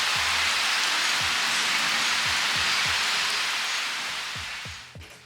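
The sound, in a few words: wind and rain before Hurricane Beryl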